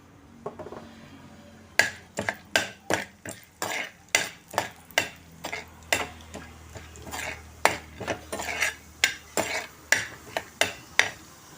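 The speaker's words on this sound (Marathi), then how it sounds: "तर आता मी तेल घालते आणि ह्या तेलावर मी ही डाळवं परतून घेते." Lentils being fried in oil in a pan for curry leaf chutney, heard as a steady series of sharp spoon-on-pan scrapes and clinks over a low, constant sizzle, close and fairly loud with no talking.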